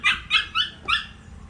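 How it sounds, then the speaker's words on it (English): A dog near a swampy settlement lets out four quick, high-pitched yips in an even burst, close and clear, then falls quiet. "They have a few dogs over here as well."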